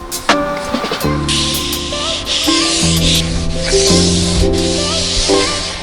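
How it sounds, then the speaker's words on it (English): Butcher wax being rubbed onto a wood piece during a school bus conversion, heard as loud, continuous scrubbing friction with a steady hiss, close up and without any talking. "get the third coat of butcher wax on"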